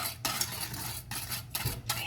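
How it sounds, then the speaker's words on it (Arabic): A utensil stirs milk in a pot on a stovetop burner, heating it toward a boil for a cake cream, giving repeated scraping and clinking strokes with brief pauses between them, close and moderately loud. "صافي غنبقى هكا نحرك"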